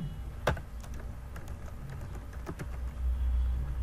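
Keys clatter in quick irregular bursts as someone types an email on a computer keyboard, close and fairly quiet, with a low background hum and no talking.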